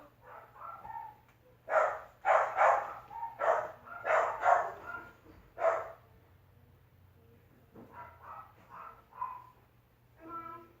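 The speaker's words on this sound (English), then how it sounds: "the dogs went crazy as predicted" Several dogs bark excitedly indoors in bursts of quick, loud yaps clustered together, pausing briefly before another run of barks, with no talk over them.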